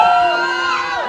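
A church congregation shouts out loud together, a sustained, close mass of raised voices with a whooping, cheering quality.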